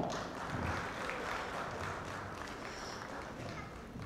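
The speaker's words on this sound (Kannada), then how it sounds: "ದೊಡ್ಡ ಮನೆ ವಂಶದ ಇನ್ನೊಂದು ಕುಡಿ ನಮ್ಮ ಧೀರೇನ್ ಅವ್ರಿಗೂ ಕೂಡ ಜೋರಾದ ಚಪ್ಪಾಳೆ" An audience claps at a pre-release event for the Kannada film Ondu Sarala Prema Kathe. A dense, continuous wash of applause runs throughout, swelling slightly near the start and then holding level.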